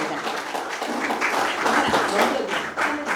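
Audience clapping in a lecture hall to welcome a guest speaker, a dense, continuous round of applause of moderate loudness.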